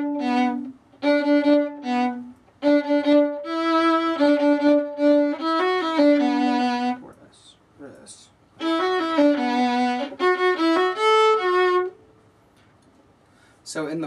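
A violin plays the melody of a song: clear bowed notes in short rhythmic phrases with brief pauses between them, alone and close.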